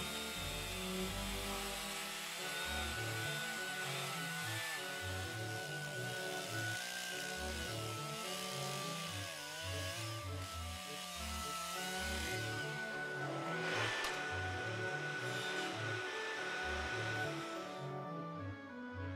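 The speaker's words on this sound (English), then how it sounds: "With the help of patterns and a motor saw, the elbow joint is sculptured from the root." A motor saw sculpts a natural wooden elbow joint from a tree root for the East Indiaman ship Götheborg, giving a continuous buzzing engine note with rhythmic pulsing as the blade cuts, steady throughout.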